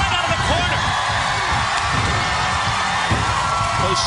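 A live wrestling crowd at a TNA Impact event cheering and roaring steadily throughout, dense and loud, with an announcer talking over the noise.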